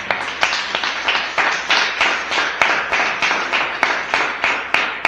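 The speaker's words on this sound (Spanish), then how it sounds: "Aplauda a Dios en esta mañana." A church congregation claps in a steady rhythm during a morning service, sharp hand claps repeating at an even beat, fairly close and continuous, with no voices over them.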